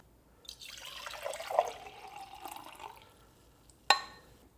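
A Ninja Luxe Café machine pours cold brew coffee into a cup, a soft hissing trickle that fades out, then one sharp click near the end.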